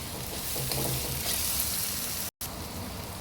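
Tomato and onion fry together in a hot pan with a steady, dense sizzle and occasional stirring scrapes, close and fairly loud, with a brief drop to silence near the end.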